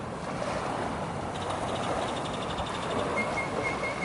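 Steady broadband wash of waves on a beach in southern Mexico, continuous and fairly loud with wind noise on the microphone and faint high tonal chirps partway through, no voices.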